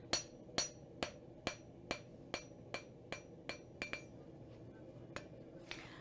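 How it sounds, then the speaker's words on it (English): Hammer face strikes metal in a steady series of about fourteen sharp, ringing blows, evenly spaced and close, smoothing out hammer marks on a metal workpiece, with no talking. "do a pass with the feet, the face of the hammer, to even that out, remove some of those hammer marks"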